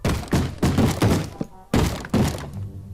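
Blocks break in the Minecraft video game as a player digs: a rapid series of loud, close, dull thunking hits in quick rhythm, about six knocks with a brief pause midway.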